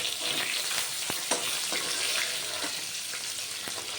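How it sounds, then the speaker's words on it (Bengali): Rui fish frying in oil after being turned, giving a dense, close crackling sizzle with a few spatter pops and light scraping touches of a utensil. "এই মাছটা আর একটু ভাজা হবে, একটু উল্টে দিলাম।"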